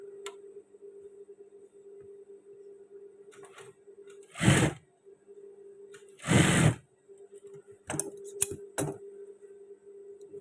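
Sewing machine stitching the waistband of long trousers, a quiet steady hum broken by two loud mechanical bursts and a few sharp clicks and taps.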